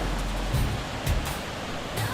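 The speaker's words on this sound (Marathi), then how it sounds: "इथे खाली जो वाहतोय तो तिकडे ओढा वाहतो" Steady rushing water of a stream flowing below the Siddheshwar temple, a soft continuous broadband wash with faint dull thumps, heard from a short distance with no talking.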